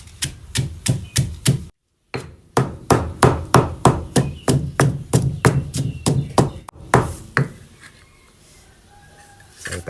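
Rhythmic, sharp pounding of chili and garlic with a pestle in a mortar, fast regular strikes with one brief pause, then the pace slows.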